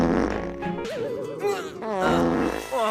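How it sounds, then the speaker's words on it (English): A man lets out a long, loud fart, a close, rumbling and sputtering blast with several pitch wobbles and short breaks that goes on for about three seconds, heard alone without talk. "How many farts have you been holding in?"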